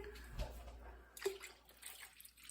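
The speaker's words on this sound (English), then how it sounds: "you can pour the next carton in" Milk poured from a carton into a big pot of milk, a soft liquid splashing and trickling stream, close and fairly quiet, with no talk over it.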